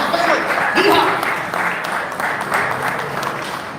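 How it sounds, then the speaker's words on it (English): A crowd applauds at a boxing press conference, a dense wash of clapping under a loud voice talking over it, filling the whole stretch. "Another big round of applause for Sam C, the Hall of Famer."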